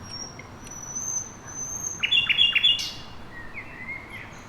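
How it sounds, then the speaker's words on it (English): A nightingale sings in a quiet setting, a thin sustained whistle followed by a quick burst of sharp repeated chirps and trills, moderately close with faint background hiss. "The nightingale is in the house."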